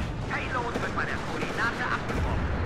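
Rolling cluster munition explosions from the real-time strategy game WARNO rumble as a dense, continuous barrage under excited, overlapping voices.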